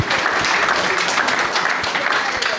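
Strong applause from a packed town hall audience for Dr. Campbell, a dense, steady wash of many hands clapping at close range throughout.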